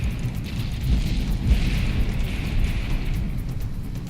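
A battleship explodes in the naval combat game From The Depths, a loud, sustained, rumbling blast with crackling debris that rolls on steadily without a break.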